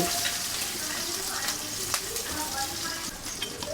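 Onion frying with prawns in a pan sizzles at moderate level, with a few soft stirring and utensil sounds.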